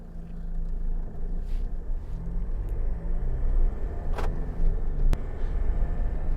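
A 2009 Jeep Wrangler 2.8 Sahara Unlimited four-door rolls along on a test drive, heard from inside as a loud, constant low rumble of engine and road noise with a couple of brief sharp knocks.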